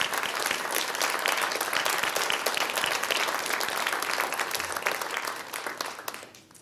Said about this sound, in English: Let's remind ourselves, okay, round of applause.